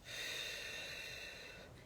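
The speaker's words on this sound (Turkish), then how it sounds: "tekrar burnumuzdan nefes alıyoruz ve ağzımızdan veriyoruz" A single long, slow breath drawn in through the nose during a guided breathing exercise, close and soft, steady for nearly two seconds before fading, with no talking.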